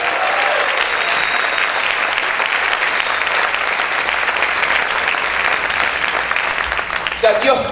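A church congregation applauds loudly during a Spanish-language worship service, dense sustained clapping filling the room at full volume, cutting off abruptly near the end.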